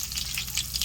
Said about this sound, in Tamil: நம்ம வந்து கருவேப்பிலை பூண்டு போட்டுடலாம்.